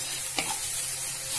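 Chopped green chillies hiss in hot oil in a pan while cooking prawn bharta, a steady close sizzle with a brief stirring scrape.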